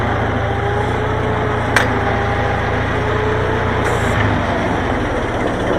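A Farmall 400 tractor engine idles at its lowest throttle setting on a farm, a steady, loud, low rumble that holds even throughout, broken by one brief sharp click.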